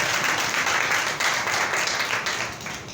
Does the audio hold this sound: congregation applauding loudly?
yes